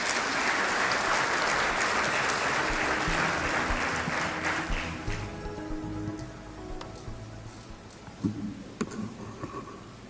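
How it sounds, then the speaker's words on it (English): Warm applause from an audience at the official opening of an international science event at Konza Technopolis, Kenya, greeting the host and CEO. Dense clapping fills the first five seconds, then thins out into scattered claps and fades away. "Let's give him a warm round of applause."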